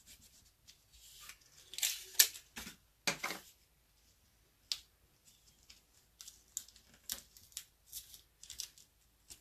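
Scissors snip sequin trim in a run of sharp, crisp cuts, close and fairly quiet, with scattered rustles and clicks between them.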